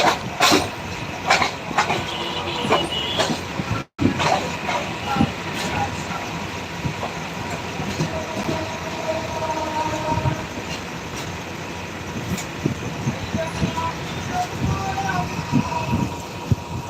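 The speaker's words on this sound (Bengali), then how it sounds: "হয়তো ট্রেনটা এখন একটু স্লো করলো" A Bangladesh Railway train runs from the airport toward Kamalapur, with steady rumbling and rhythmic wheel clatter heard from inside the carriage, and a sharp break near the four-second mark.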